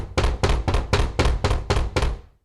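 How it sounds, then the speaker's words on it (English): Seven heavy, evenly spaced thumps on a door, a storytelling sound effect, loud and close with nothing else around them and a short fade after the last blow. "a thumping at the door."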